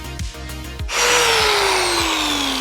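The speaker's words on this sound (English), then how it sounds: "removing all of that old paint from the various salvageable parts, using a paint removal disc" Angle grinder fitted with a paint removal disc, stripping old paint from salvaged parts of a cheap Land Rover Defender, starting after a brief clatter and then holding a loud, harsh whine whose pitch sinks gradually under load, close by.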